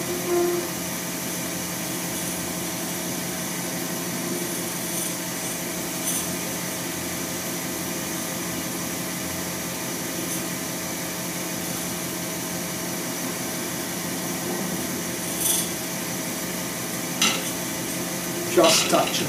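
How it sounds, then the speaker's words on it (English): A lathe turns a clear epoxy resin shaving brush handle while its bottom is rounded with a cutting tool, a continuous whirring hiss with a few brief scraping bursts near the end. "I'm just going to start the rounding of the bottom of the handle now."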